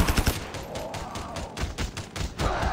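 Auto-aiming turrets in Call of Duty fire rapid bursts of automatic gunfire, a fast rattling volley of shots at moderate distance with brief gaps between bursts.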